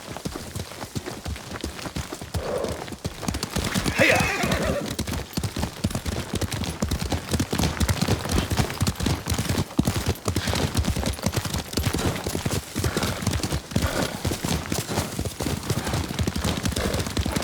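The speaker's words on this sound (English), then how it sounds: "Lord Sakai taught me to ride a horse." A horse gallops in the Ghost of Tsushima Director's Cut video game, its hooves producing a continuous rapid clip-clop rhythm for many seconds, loud and close, with a hissy rain-like texture behind it.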